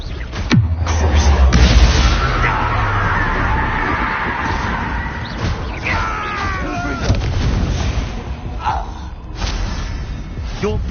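Confringo fire spell cast in the Hogwarts Legacy video game bursts into a loud booming explosion early on, followed by crackling blasts and rumbling impacts over several seconds, with a voice speaking around the action.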